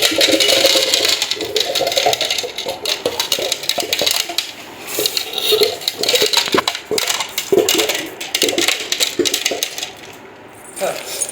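White stones poured into a home aquarium, clattering and rattling loudly and continuously at close range, with faint talk now and then.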